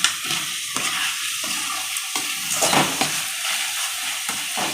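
Onions and tomatoes frying in a pan for a squid fry, with a steady close sizzle and intermittent stirring scrapes throughout, no voices.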